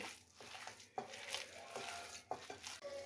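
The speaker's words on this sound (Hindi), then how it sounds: "अब इनको अच्छे तरीके से मिक्स कर लें।" Chicken seekh kabab mixture of chicken thigh, lemon juice and ajwain being mixed in a bowl, giving close, soft, squelching and scraping stir sounds in irregular strokes, with no talking.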